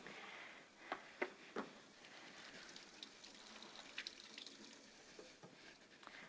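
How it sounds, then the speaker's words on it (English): Faint water from a kitchen sink tap while hands are rinsed, a soft hiss with scattered splashes and drips, quiet and close, with no voices. "I'm going to give my hands a little wash because I touched the raw egg"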